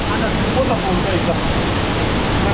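Nyabomite Waterfall in Nyanza, the largest there, heard from underneath the falling water as a loud, unbroken hissing roar that fills the whole stretch. A voice is partly buried beneath it.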